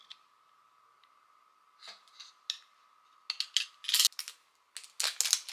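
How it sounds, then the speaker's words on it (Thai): A plastic surprise egg is cut open with a blade, giving a thin steady whine followed by a series of sharp plastic snaps, clicks and crackles that grow louder and denser toward the end, close by with no talk. "ขออนุญาตผ่าไข่ครับผม"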